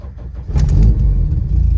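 A K-swapped car's engine cranks briefly and catches, rising into a loud close idle rumble.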